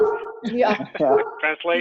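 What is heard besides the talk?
dog whimpering and howling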